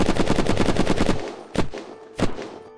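Dragonfang automatic gunfire from the video game Unturned hammers a wooden wall in a fast, loud, close burst of about a dozen shots, then two separate single shots follow.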